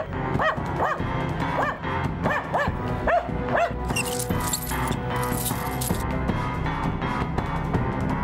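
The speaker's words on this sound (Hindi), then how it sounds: "जब भी कुत्ते इस तरह भौंकते हो या इतना अजीब बिहेव करते हो ना" Dogs barking in a Hindi horror drama scene, several sharp close barks in quick bursts over a dark musical score, with a rising hiss later.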